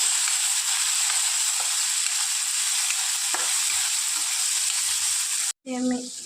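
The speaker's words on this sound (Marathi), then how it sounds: "आता आपण यामध्ये तेल टाकू आणि तेलामध्ये याला छान फ्राय करून घेऊ।" Peas fry in hot oil with a constant, dense sizzle that is close and steady, ending in a sudden cutoff followed by a brief different sound; no one speaks.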